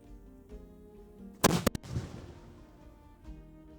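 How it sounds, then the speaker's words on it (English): A robinet, a small historic cannon, fires once outdoors at Glastonbury Abbey, a single loud sharp boom followed by a short rumbling echo that fades over about a second. "we're going to fire the robinet first."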